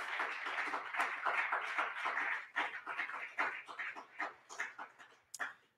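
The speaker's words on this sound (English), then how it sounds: "let us give Dan and Kurt a round of applause" A few people clap for newly approved board members at a virtual annual meeting, a faint, uneven patter of scattered claps that thins into separate bursts toward the end.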